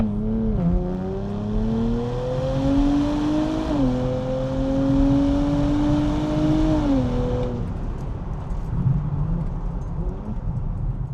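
A Nissan Z launching hard with launch control, engine howling up through the revs in a loud rising tone, briefly dipping at a gear change, then cutting off to quiet road noise.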